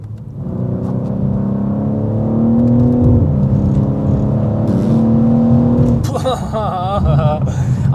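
A BMW M car engine at light throttle hums low and steady from inside the cabin, with road rumble beneath it, before a voice and some brief higher tones break in near the end.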